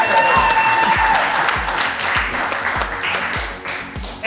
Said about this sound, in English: Big round of applause for Pep.